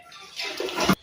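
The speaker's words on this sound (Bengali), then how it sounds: "আমি চালটাকে এখানে ভালো করে ধুয়ে একটু ভিজিয়ে রাখবো 1 ঘন্টার মতো।" Rice being washed in water by hand before soaking for a biryani, a short swell of sloshing and pouring water that builds over about a second and cuts off abruptly.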